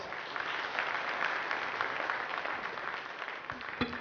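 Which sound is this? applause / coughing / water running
applause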